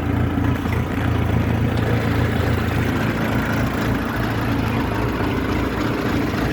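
A Jinma 404 mini tractor's engine idles at about 900 rpm, making a steady, loud, low diesel rumble with an even throbbing beat, close up and continuous, with no talking.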